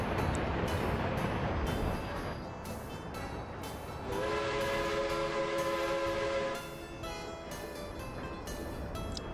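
Trains running in the city-building game Workers & Resources, a steady rumbling rail noise with a sustained horn-like tonal stretch midway, heard alone at moderate level.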